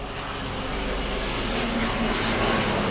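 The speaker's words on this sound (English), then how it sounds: "Helicopter just flew over the house." A helicopter passes over a house, heard indoors as a steady, loud, low rumbling drone with broad wash filling the whole stretch, no talking.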